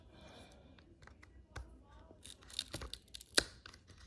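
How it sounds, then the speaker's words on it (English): A Dell E5270 laptop screen is peeled away from the adhesive tape along its edges, giving quiet, scattered tearing and crackling bursts that grow sharper toward the end. "There's a little bit of adhesive tape around the edges."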